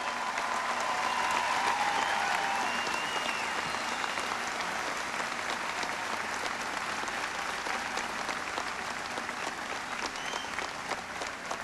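A large political crowd at a 1996 US election event gives sustained applause for Senator Dole. Dense, even clapping continues throughout, with faint crowd noise beneath.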